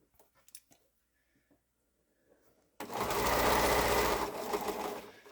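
A sewing machine runs steadily for a couple of seconds, close and loud, stitching two curved quilt pieces together after a few soft handling clicks.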